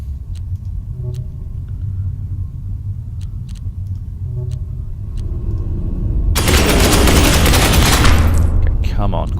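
Gunfire in the Space Hulk Ascension video game, a low rumbling ambience with scattered faint shots, then a loud sustained burst of automatic fire near the end.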